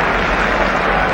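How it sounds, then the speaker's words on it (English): Dense roaring applause from a large cricket crowd at the 1983 World Cup semi-final between India and England, a steady broad wash of clapping and cheering heard from a distance with no pauses. "That's a roar of applause from the crowd."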